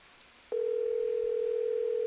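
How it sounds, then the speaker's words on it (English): A phone in a Nancy Drew mystery game about the crystal skull gives a steady electronic tone that starts abruptly after brief quiet and holds unbroken to the end. "This is not a song that is copyrighted. It's just a ringtone."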